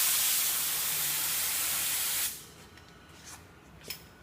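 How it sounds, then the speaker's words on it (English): Spray paint gun laying a first coat on a part, a loud steady hiss of airflow that cuts off abruptly halfway through, leaving quiet room tone with a couple of faint knocks. "Curve the gun with the part and all the way along the side"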